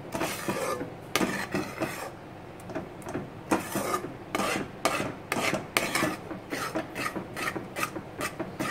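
Cashew dough for kaju katli being stirred in a pan, giving close, repeated scraping and rasping strokes at an uneven quick pace, with no voices.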